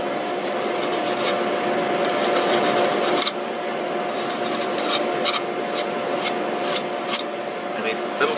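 Steady rasping scrape of sandpaper rubbed over wood, continuous and close, with short pauses and a soft voice murmuring underneath.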